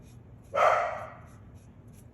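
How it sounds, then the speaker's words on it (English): Dogs barking indoors, heard as one loud burst of barking that quickly fades, with otherwise quiet room tone around it. "And the dogs are back."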